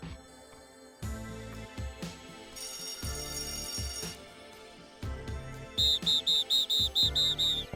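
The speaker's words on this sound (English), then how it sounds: "History class starts with a loud whistle from the PE teacher." A PE teacher's whistle sounds in the dating video game DateZ, with bright tonal blasts over game music and a quick run of short, loud repeated whistle pulses near the end.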